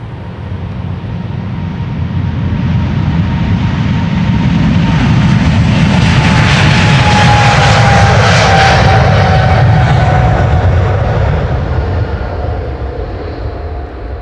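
A KLM Boeing 777-300ER departing Amsterdam Schiphol, its jet engines building to a loud, close roar that peaks midway with a descending whine, then eases slightly as it passes.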